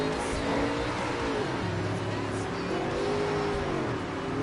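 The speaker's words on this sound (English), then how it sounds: "the UMP Modifieds hitting the racetrack here first" UMP Modified race cars out on track in a sim racing game, a steady droning engine roar with a slowly shifting pitch that holds throughout, loud and continuous, with no talk over it.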